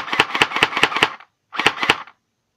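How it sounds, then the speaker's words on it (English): An airsoft M4 rifle fires rapidly in two quick bursts, five sharp snapping shots and then two more, close and clear with no talk. "so I'm gonna shoot it really fast and it'll glitch out."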